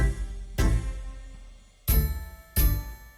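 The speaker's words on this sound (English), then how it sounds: "it's got a little bell in it on that beat one" A small bell or chime voice sounds on the downbeat of a Korg arranger keyboard rhythm pattern, as three bright struck hits with ringing decay, spaced unevenly and close up, with no talking.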